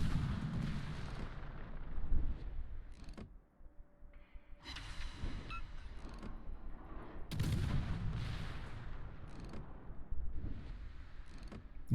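Warship gun salvos from a naval video game ring out in loud, booming bursts with rumbling tails, several volleys over steady background noise.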